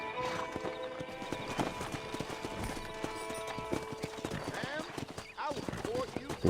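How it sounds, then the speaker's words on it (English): A horse in Red Dead Redemption trots with rapid clip-clop hoofbeats and neighs amid game music and ambience, fairly close, with speech-like voices mixed underneath. "Vamos montar no nosso horse."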